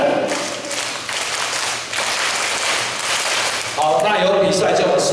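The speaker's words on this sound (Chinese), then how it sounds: "给这几位小朋友掌声鼓励一下" An audience at a children's award ceremony claps in dense, sustained applause that fills the room, with voices rising over it toward the end.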